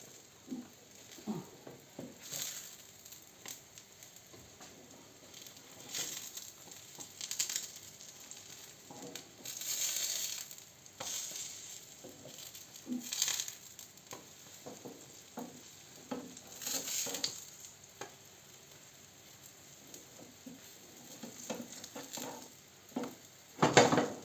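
Cherry pancakes fry in a little oil in a pan, giving a soft continuous sizzle with occasional faint scrapes and clinks of a utensil against the pan, fairly quiet and with no talking.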